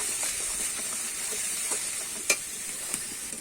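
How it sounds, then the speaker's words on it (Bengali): Cumin and coriander powder are stir-fried in hot oil in a pan for a tangra fish curry, giving a steady, close sizzling hiss broken by soft scraping stirs and one sharp clink. "দিয়ে কিন্তু আমি আবারও নেড়ে চেড়ে কষিয়ে নেব।"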